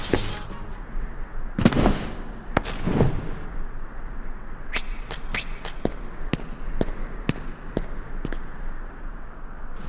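Fire spell cast during battle at the Olympus Coliseum in Kingdom Hearts Final Mix on Nintendo Switch: a couple of loud whooshing blasts early, then a rapid series of sharp crackling pops and clicks over a steady game backdrop.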